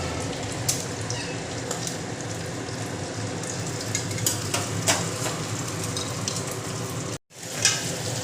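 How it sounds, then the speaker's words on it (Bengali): An egg fries in a hot pan in a home kitchen, a steady crackling sizzle with sharper pops throughout and a brief cut near the end, no voices. "এখন ডিম ভাজা রান্না হচ্ছে"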